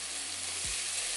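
A tablespoon of garlic paste sizzling in a hot pan for tomato basil pasta, a continuous close frying hiss with a brief stirring scrape, no talking.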